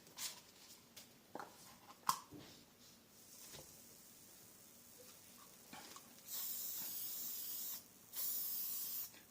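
Hairspray hisses from an aerosol can onto a scenic model-making piece, in two steady bursts of a couple of seconds each after faint clicks and handling noises.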